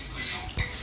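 Metal spoons clink against dishes as they are brought to a table with snacks, giving a soft rustle followed by one bright, close clatter.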